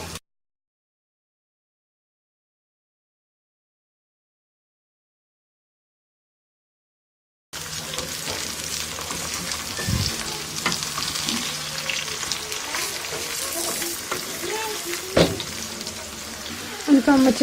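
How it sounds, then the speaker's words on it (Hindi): Eggplant frying in a pan with onions already lightly browned, a steady loud sizzle after several seconds of silence, with occasional stirring knocks and faint talk in the background. "अब हम इसमें बैंगन शामिल करेंगे। इनको भी फ्राई करेंगे इस तरीके से।"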